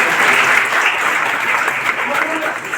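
A classroom crowd applauds a student selected to the Delhi Police, with steady, dense clapping that stays loud and even throughout.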